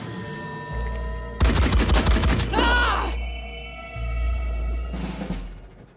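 Gunfire from the turn-based tactics game Phoenix Point: a loud, rapid burst of shots rattles for about a second amid game music and hums, followed by a metallic whine and further rumbling effects.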